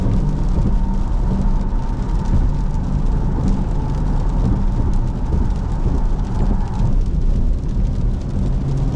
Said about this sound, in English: It's really freaking rainy, man.